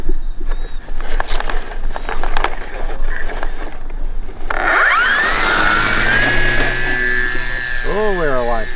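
A P51 Mustang warbird RC plane with flaps fitted starts its takeoff: after scattered handling noises, the electric motor whines up sharply and holds a loud, high, rising tone, with a voice speaking near the end.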